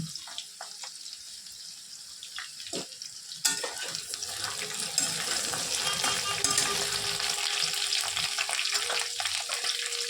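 Green beans tossed into a hot pan of oil for a winter vegetable curry, starting with a sudden burst of loud, close sizzling that settles into steady crackling frying, with a few scraping stirs and no voices.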